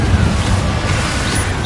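Rumbling fire-spell blast from Confringo in Hogwarts Legacy, a sustained loud low roar with crackling texture running evenly through the moment, no distinct individual impacts.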